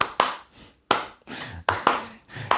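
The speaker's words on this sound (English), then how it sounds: "It's even got like hand claps in the chorus" Hand claps from the chorus of a song sound as six crisp, evenly spaced claps, loud and dry, with brief decays between them.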